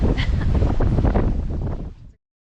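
Heavy wind buffets the microphone in a loud, rumbling roar that stops abruptly near the end, on a backpacking hike along the Long Trail in the woods.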